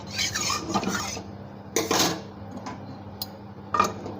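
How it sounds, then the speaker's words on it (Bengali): A metal wok is washed after cooking a cucumber curry, with close clanks and scrapes of metal against metal in several separate bursts over a quiet background. "কড়াইটাকে একটু ধুয়ে দেবো"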